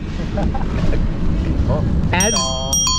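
A bright bicycle bell on an Urban Arrow family cargo bike rings several times in quick succession near the end, over steady rumbling background noise and wind.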